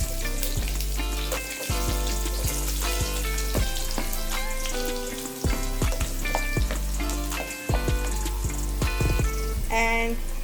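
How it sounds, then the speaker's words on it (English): Chopped onion fries in hot, spluttering oil with a continuous crackling sizzle and scattered pops, heard alongside tonal background music. "It started spluttering, and now I will add some chopped onion"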